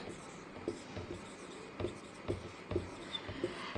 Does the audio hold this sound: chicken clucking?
no